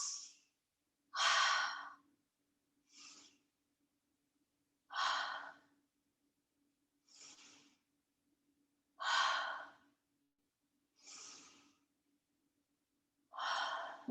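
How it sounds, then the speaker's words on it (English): Slow, deep cleansing breaths during a yoga stretch come as separate inhales and exhales, close and breathy, repeating every couple of seconds with silence between them over a faint steady hum. "Maybe some cleansing breath."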